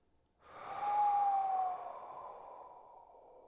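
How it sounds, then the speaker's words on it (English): One long breath is pushed out through the mouth during a yoga session, a soft close whoosh that swells quickly and then trails away. "Exhale through the mouth."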